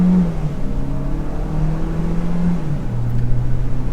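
A 2025 Chevrolet Equinox RS AWD engine pulls hard under full-throttle acceleration from a standstill, its tone rising steadily and then dropping at a gear change. The engine is loud and close, with no talk over it.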